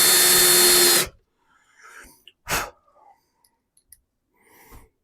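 A power drill bores screw holes in wood for number 6 1 5/8 inch interior wood screws, running loud and steady for about a second before stopping, followed by a few scattered knocks and small handling sounds.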